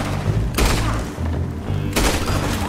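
Gunshots in Red Dead Redemption 2 ring out twice, loud and close, with a gap of roughly a second and a half, each followed by a short lingering blast over a steady rumbling backdrop.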